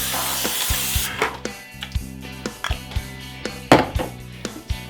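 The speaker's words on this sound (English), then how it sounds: "Okay, to grease it, I'm going to use Pam." A can of Pam cooking spray hisses loudly for about a second while greasing a 13 by 9 baking pan, followed by sparse clinks and knocks of the can and pan.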